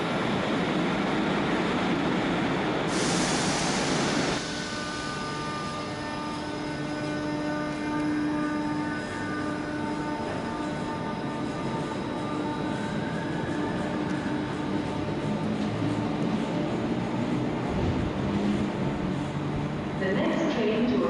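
A pair of Class 150 diesel trains rumbles steadily past close by at Manchester station, with a sharp horn-like burst near the start and a continuous engine drone throughout.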